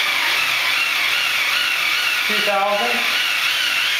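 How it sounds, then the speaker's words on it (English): A BF20 milling machine spindle turns at low RPM with a steady, close mechanical whir and a faint pulsing, while a voice briefly calls out a number partway through. "BF20 high speed pulsing at lower RPMs"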